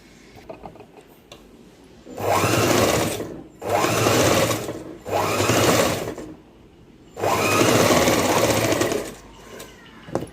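Sewing machine stitching the sleeves of a baby gown, loud close whirring in four separate bursts of a few seconds each with short pauses between, no speech.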